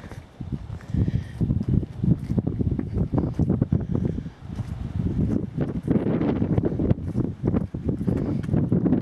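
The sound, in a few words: strong wind blowing outdoors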